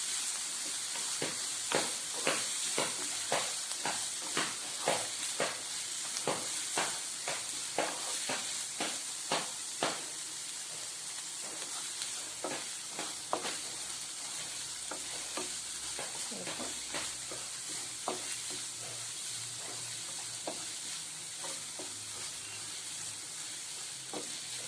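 Green chillies and tomato fry in a pan while a spoon stirs them, giving a regular run of scraping strokes over a soft, continuous sizzle, close by with no talking.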